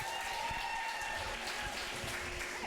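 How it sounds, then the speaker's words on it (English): An audience claps steadily throughout, a dense, continuous patter of applause at a dating show taping, moderately loud with no clear voices. "Clap if you think there's gonna be a second date."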